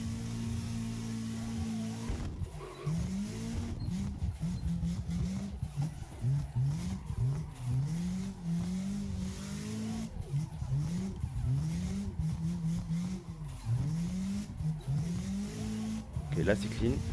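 Drifting car in the Assetto Corsa racing game, repeated engine revs swelling and dropping in rhythmic pulses with tire squeal, someone talking over much of it.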